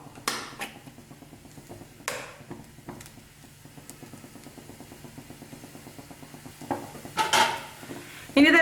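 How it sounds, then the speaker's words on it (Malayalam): Chicken fried rice is stirred and mixed in a pan, with a spatula or spoon clinking and scraping against the metal in scattered knocks over a faint background hum, growing busier and louder near the end. "ഇനി ഇതെല്ലാം കൂടി ഒന്ന് നന്നായിട്ടൊന്ന് മിക്സ് ചെയ്തെടുക്കാം."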